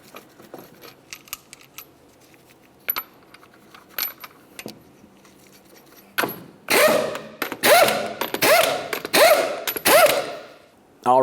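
Lug nuts on a 2009-2010 Pontiac Vibe front wheel are run down during a brake job, first light metallic clinks and rattles of sockets and nuts, then loud repeated bursts of a rattling impact wrench, close up.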